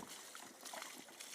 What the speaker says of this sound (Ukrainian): Напитаю землю водою.